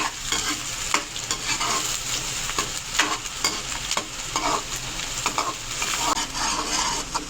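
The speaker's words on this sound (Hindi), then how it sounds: "प्याज को करेंगे ब्राउन।" Onions browning in hot oil in a pan while being stirred, for a restaurant-style chicken palak; a steady close sizzle and frying crackle runs throughout, broken by repeated scraping stir strokes, with no voices.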